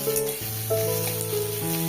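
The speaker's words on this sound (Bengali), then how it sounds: "ঝিঙেটা কিন্তু আমার লাল লাল করে ভাজা হয়ে গেছে" Ridge gourd frying in hot oil gives a brief, soft, steady sizzle under a low background hum lasting under two seconds.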